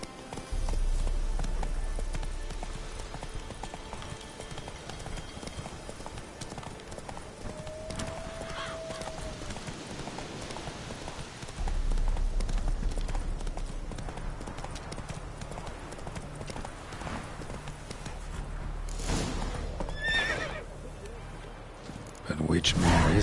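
Horse hooves clip-clop steadily in a video game, mixed into a busy game soundscape with a brief whinny-like tone and people talking over it.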